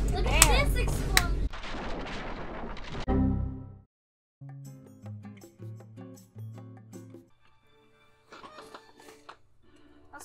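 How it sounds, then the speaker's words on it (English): Loud booming blasts and crackling bursts open, then sparser, quieter explosion-like effects and tonal game sounds from the video game Captain Toad follow. "So many explosions"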